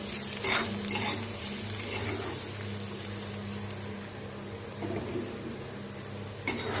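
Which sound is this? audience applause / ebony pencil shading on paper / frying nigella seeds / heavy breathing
frying nigella seeds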